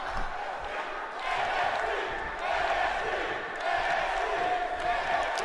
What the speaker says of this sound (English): The crowd chanting NXT.